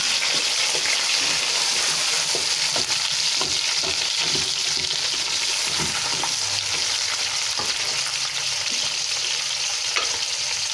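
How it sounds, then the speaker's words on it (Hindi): Chicken sizzles steadily in a hot pan, a continuous bright crackle of frying with occasional stirring scrapes, close and fairly quiet, with no voices. "अब हम इसमें चिकन शामिल कर देंगे, इसको फ्राई करेंगे।"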